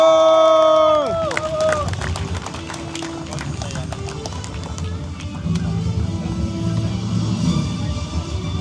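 A crowd on the shore at an aquacross jet ski race in Elektrėnai, Lithuania applauds and cheers the Runabout GP4 class winner. The dense clapping follows a brief opening horn-like tone and carries on steadily.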